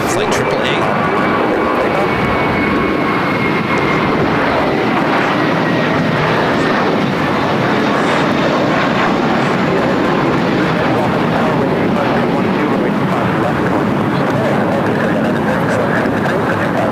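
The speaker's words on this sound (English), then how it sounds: "the Airbus on the parallel will take off and offshore" An Airbus airliner takes off on the parallel runway at LAX, its steady jet roar loud and continuous throughout, with voices talking over it.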